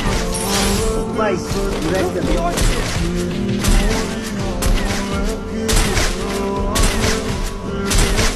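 Rapid bursts of gunfire and heavy booms from a battle-royale style video game match, repeated loud shots in clusters over game music and effects, with a player talking over the action.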